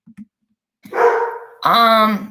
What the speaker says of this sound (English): Sorry, my dog's barking in the background